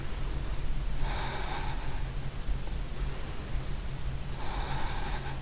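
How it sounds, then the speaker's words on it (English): Steady yoga breathing during a Hatha yoga session, with two audible breath swells of airy inhale-exhale against a constant low background hum, close and moderately soft, no talking. "Breathing."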